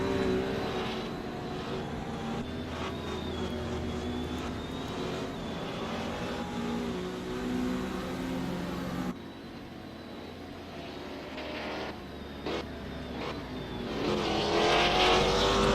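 Race cars in a video game Grand Prix of Sweden roar continuously at close range, engine tones rising and falling as they accelerate and pass, with a brief dip midway before the engine noise swells loud again near the end.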